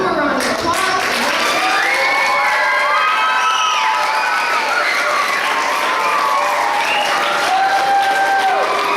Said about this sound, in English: So let's give one more round of applause.